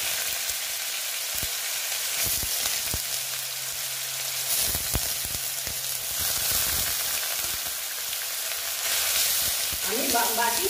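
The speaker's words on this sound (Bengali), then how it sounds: "এখন আমি দিয়ে দিচ্ছি পেঁয়াজ বাটা" Grated onion paste sizzles loudly in hot oil over a tempering of whole spices, with steady broadband frying hiss and scattered clicks and scrapes of stirring, close and alone.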